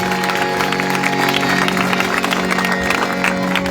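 Dense, steady applause from a large crowd at a church revival night in Pakistan, continuous clapping with a sustained musical tone underneath.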